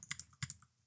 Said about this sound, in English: We're gonna type emit.js.